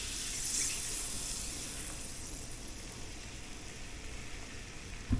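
Milk poured into a pan for cooking squirrel, a steady, close liquid pour with a soft, continuous rush that holds even throughout and ends with a faint clink.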